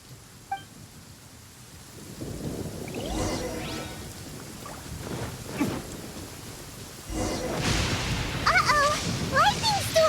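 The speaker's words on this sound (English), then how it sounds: "Lightning storm!" A lightning storm in the Genshin Impact video game brings steady rain hiss, rumbling thunder rolls and a sharp crack partway through, followed by chirping game effects and voices near the end.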